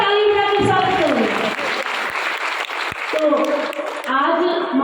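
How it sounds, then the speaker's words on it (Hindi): Audience applause welcoming a guest at a religious katha gathering, loud sustained clapping from a crowd lasting the whole stretch, with a voice speaking over it at moments. "एक बार जोरदार ताली बजा के स्वागत करो।"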